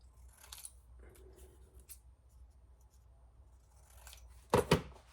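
Scissors snipping small paper scraps for a floral mini booklet: faint scratchy cuts through most of the stretch, then two sharp, louder snips near the end, close up and without speech.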